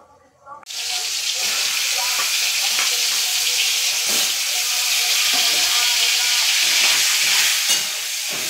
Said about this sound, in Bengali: এরপর আমি ডিমগুলো ভেজে নেব।